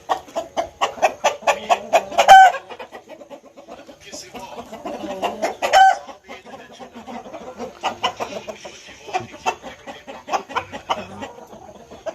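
Chickens cluck repeatedly in quick bursts, fairly close, with a couple of louder squawks standing out, the busy clucking continuing throughout.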